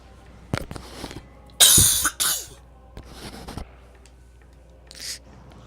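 A congested person coughs several times in short bursts, one strong loud cough in the middle and smaller coughs and throat clearing around it, close to the microphone in a quiet room.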